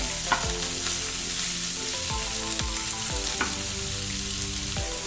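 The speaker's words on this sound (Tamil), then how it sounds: "இது கொஞ்சம் நல்லா வதங்கட்டும்" Ridge gourd skin sautés in a hot pan with a steady, loud sizzle, broken by repeated knocks and scrapes of a stirring spoon against the pan.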